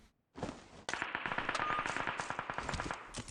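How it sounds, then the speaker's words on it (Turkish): M16A4 rifle fired in PUBG Mobile, a loud close burst of rapid automatic shots in a steady rhythm after a single opening crack, continuing for several seconds with a sharp tail on each report. "adam M16 A4 de sıktı orada"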